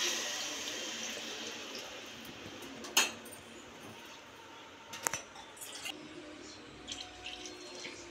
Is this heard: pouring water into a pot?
yes